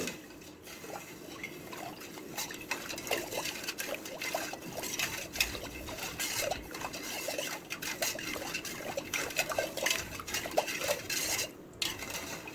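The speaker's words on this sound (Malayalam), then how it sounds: "ഇനി നമ്മളത് നന്നായിട്ട് ഇളക്കി യോജിപ്പിക്കുകയാണ്" A spoon stirs a homemade beetroot wine mixture in a pot or vessel, with continuous scraping, clinking and liquid swishing in an uneven rhythm for several seconds, close and moderately loud, without talking.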